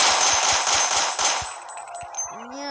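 Rapid bursts of automatic gunfire from the zombie shooter game Zombie Age 3, a quick rattle of repeated shots that thins out and stops, with game sound effects after it.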